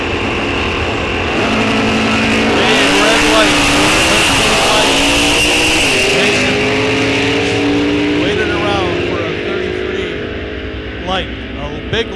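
A 1969 Chevy Nova and another drag car roar down the strip at Rock Falls Raceway, engines revving hard and climbing through gears, loud and close before fading as they pass, with an announcer's voice over the noise.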